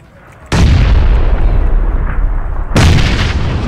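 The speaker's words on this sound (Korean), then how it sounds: "담벼락 폭 던졌어요" Two heavy grenade blasts thrown against a wall in PUBG, each a sudden loud boom with a long rumbling decay, the second following about two seconds after the first, with no talking over them.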